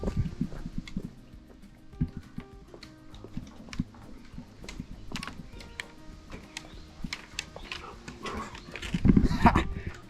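A dog pants and huffs in quick irregular bursts close to the microphone outdoors in a park, with scattered footsteps and rustling and a louder flurry near the end.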